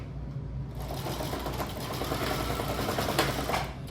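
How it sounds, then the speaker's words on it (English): A sewing machine stitches a handle onto a fabric tote bag in a steady, continuous mechanical whir with a rapid needle rhythm, close and running without pause. "just enough to sew it down to the bag"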